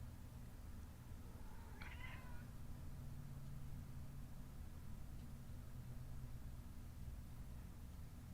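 A cat gives a single short meow at moderate distance over a quiet, steady background hiss, with no talking.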